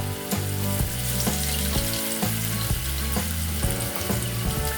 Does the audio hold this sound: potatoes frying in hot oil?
yes